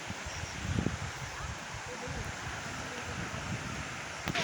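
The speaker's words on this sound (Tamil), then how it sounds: "இங்கே நல்லா காற்றடிச்சிது." Steady, rushing mountain wind buffets the microphone throughout, a broad roar with low gusty rumbles and no other clear sounds.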